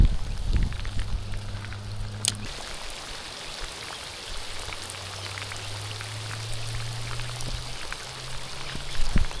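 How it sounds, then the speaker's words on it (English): Heavy rain pours down steadily over an outdoor fishing spot, a dense hiss of drops spattering on surfaces throughout, close and continuous, with a brief sharp knock early on. "It's absolutely downpouring"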